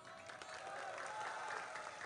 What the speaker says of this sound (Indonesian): wah tunggu jangan tepuk tangan dulu, tunggu